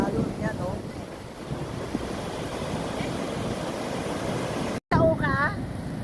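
Strong ocean waves surge and crash near Umbrella Rocks, a steady wash of surf roaring under heavy wind buffeting the microphone, with a brief dropout before the noise resumes; faint voices may sit beneath it.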